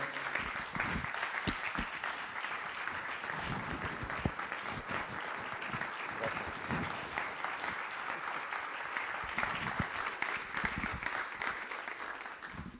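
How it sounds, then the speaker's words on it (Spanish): A large crowd applauds steadily, dense clapping sustained throughout without a break, heard from within the audience. "quiero levantarme y pedirles a ustedes que le demos un gran aplauso"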